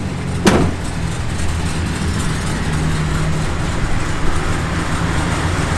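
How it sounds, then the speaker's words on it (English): The blower motor of a 1969 Plymouth Satellite convertible runs with a steady low whir and hum inside the car, joined by one sharp click near the start. "the blower motor works"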